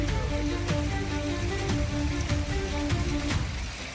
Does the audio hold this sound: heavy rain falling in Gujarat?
yes